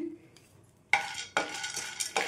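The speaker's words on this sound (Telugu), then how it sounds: "1 కప్పు సగం వరకు వేసుకొని ఇవి కూడా దోరగా వేయించుకోవాలి." Edible gum (gond) frying in a pan while being stirred: a quiet start, then three sharp bursts of scraping and crackling sizzle close by, each fading before the next, no talk.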